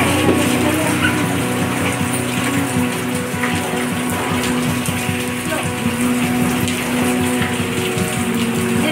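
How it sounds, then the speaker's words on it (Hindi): Steady rain falling without a break, a dense wash of drops on surfaces with a faint low hum underneath and no voices. "माओ चोना बारिश हो रही है, मजा आ रहा है।"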